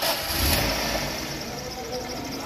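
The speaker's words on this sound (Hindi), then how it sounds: "तो इसके जो इंजन साउंड है वो भी मैं आपको अभी शो करा देता हूँ" A 1300cc engine in a 2000 Toyota Corolla GL runs at a steady idle, a constant close mid-range hum with a faint whine on top, no clear revving and no speech over it.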